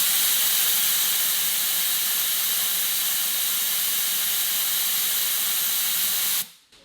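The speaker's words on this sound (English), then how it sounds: "So when I pull this collar back, you'll see how much air can be released" Air blasts out of a tire valve through an SSW Off-road Wheels quick air-down tool, a loud, steady, close hiss that holds for over six seconds and then cuts off abruptly.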